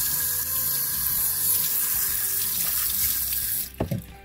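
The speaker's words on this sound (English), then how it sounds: "Okay, let's rinse this lid." Steady rush of running tap water as a rock tumbler lid is rinsed under a faucet, ending in a few splashy clunks as the lid is moved.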